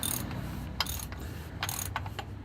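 A ratcheting tool tightens an oil filter on a Toyota Prius during an oil change, clicking in several quick bursts close up with no one speaking.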